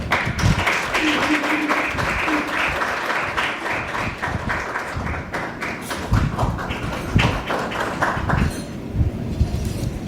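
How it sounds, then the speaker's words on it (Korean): Applause from a seated audience welcoming the association president to the podium at the opening of a Korean overseas journalists' conference, uneven clapping with distinct individual claps and a few thumps, fairly close. "앞으로 오실 때 박수로 맞아주시기 바랍니다"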